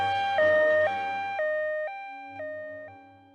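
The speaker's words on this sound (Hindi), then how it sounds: "उसने भी घंटी बजाई" An electronic doorbell chimes alone, a few clear sustained tones that step between pitches in a repeating ding-dong pattern, steady and fairly close, with no talking.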